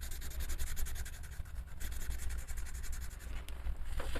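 A blender pencil rubs over coloured pencil on paper, producing a continuous close scratchy rubbing with quick back-and-forth strokes and a brief louder scrape near the end.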